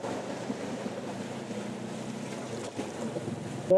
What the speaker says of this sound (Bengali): ঢেউ আসতেছে